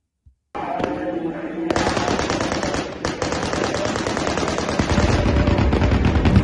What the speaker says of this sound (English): You can see the fireworks just kind of going off continuously